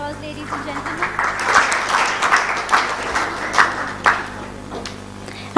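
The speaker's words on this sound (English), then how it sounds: "A huge round of applause, ladies and gentlemen." An audience at a seminar gives a loud round of applause, with dense clapping that swells and stays strong, then cuts off at the end.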